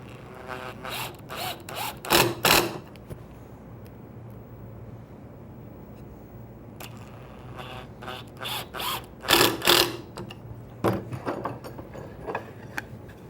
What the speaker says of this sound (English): Then simply drive the screws in.